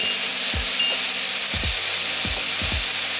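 Lemongrass-marinated chicken sears in a hot pan with a steady, bright sizzle throughout, punctuated by four or five low thumps as the pieces or utensils are moved.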